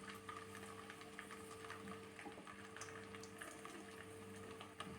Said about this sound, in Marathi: तर यामध्ये आपल्याला घालायचे आहेत आलू आणि मिडियम गॅसवर आपल्याला छान फ्राय करून घ्यायचे आहेत